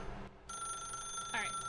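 Telephone ringing in The Stanley Parable video game, a faint electronic ring with a steady high tone and a brief warbling burst near the end, set over a low background hum.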